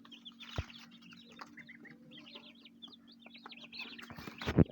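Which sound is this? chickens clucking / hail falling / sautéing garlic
chickens clucking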